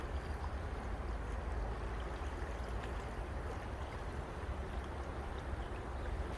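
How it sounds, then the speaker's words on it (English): The Yakima River running high at summer flow, a steady, dense rush of moving water heard close and unbroken throughout. "the river is plumb full of water"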